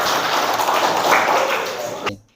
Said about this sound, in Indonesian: Oke, tepuk tangan untuk semuanya dulu.